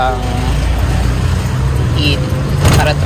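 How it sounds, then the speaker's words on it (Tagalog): A motorized tricycle like a tuk-tuk rumbles past on a Boracay street, its steady engine drone loud and close while people talk over it. "parang tricycle. Parang katulad siya ng tuk-tuk sa Thailand."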